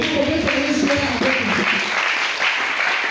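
A church congregation applauds and cheers for Jesus, a steady wash of clapping with some voices mixed in, moderately loud and continuous throughout.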